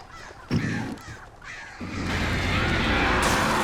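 Crows caw in the horror game Alan Wake, with several harsh calls mixed into a dense, rising ambient wash that swells louder toward the end.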